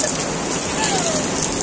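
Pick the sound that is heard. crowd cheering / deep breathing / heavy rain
heavy rain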